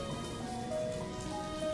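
Steady rain patters on a surface, a soft continuous wash of drops with no voices.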